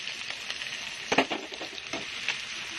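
Onion, garlic and ginger sauté in a pan with a soft, close sizzle, punctuated by a few scraping stirs of a utensil, the loudest cluster near the middle.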